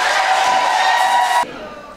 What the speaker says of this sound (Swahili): Hebu tumpigie makofi mengi